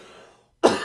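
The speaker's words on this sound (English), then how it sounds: "I'm still trying to get over this cough from last week's episode. So if I cough, I apologize." A single sharp cough bursts out close to the microphone after a fading tail of a previous sound and a short silence.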